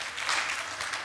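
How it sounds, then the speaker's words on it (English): Brief burst of a church congregation clapping hands together, a dense, diffuse patter of applause, fairly quiet and distant. "clap your hands."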